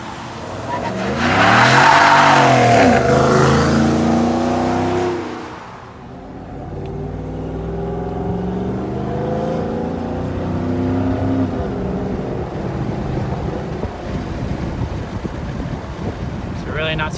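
A deep V8 engine in a 2017 Ford F-150 5.0 with a CORSA exhaust revs up and roars as the truck accelerates, heard from inside the cab with wind noise, then settles to a steady drone.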